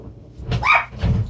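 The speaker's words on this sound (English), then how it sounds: "That's my dog, Thor." Dogs at home give one short, close bark and a low woof within about a second, heard alone.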